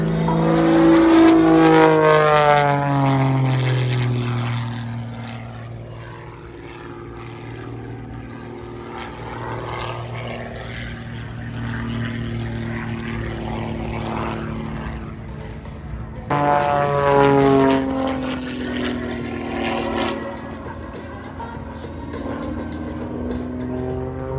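A propeller airplane performs at a daytime air fair, its engine droning loudly with rising and falling pitch sweeps as it passes overhead, and a voice announces over the PA.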